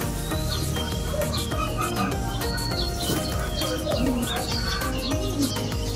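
Several birds chirp and coo close by over a steady background din, with short calls overlapping throughout.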